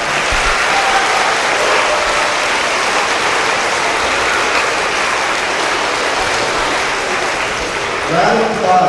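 Students and staff at a school assembly applaud loudly, a thick, even wash of clapping from a large crowd that holds for several seconds before easing off, with a few voices rising at the end.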